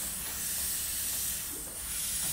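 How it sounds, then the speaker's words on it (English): Extra virgin olive oil sprayed from a mister onto eggplant slices in a home kitchen, a steady close hiss lasting a couple of seconds with a brief dip near the end. "I'm going to spray them like with some virgin oil."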